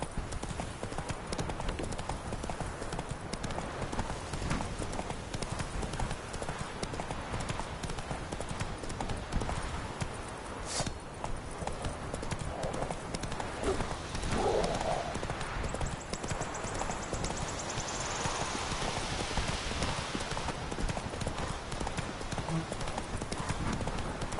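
Roach, a horse in The Witcher 3, gallops with steady rapid hoof clip-clops over a constant game-ambience bed, close and loud throughout, with brief voices in between.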